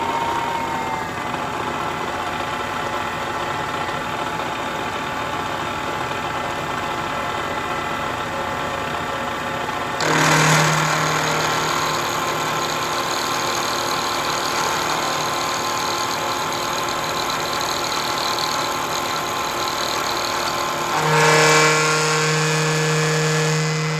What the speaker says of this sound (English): I have a nice big 4-flute end mill in the spindle, and we'll start by taking like a 50 thousandths depth of cut